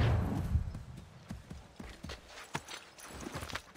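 A ridden horse's hooves clip-clop along a road in Assassin's Creed III, a series of quiet, fairly regular hoof strikes at a trotting pace over soft ambient game sound.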